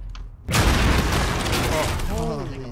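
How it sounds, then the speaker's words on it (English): C4 charge detonating in the video game Call of Duty: Modern Warfare, a sudden loud boom with rumbling debris and crackle that fades over a couple of seconds, followed by a player's voice. "Holy, that was a loud explosion."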